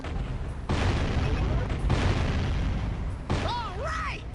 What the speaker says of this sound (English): we can use the cannon now to break some of the crates